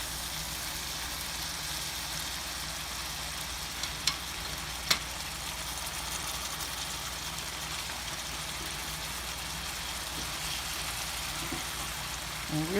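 Garlic butter shrimp with spices and seasonings sear in a large pan, giving a steady, close hiss and sizzle with a few small pops and crackles throughout.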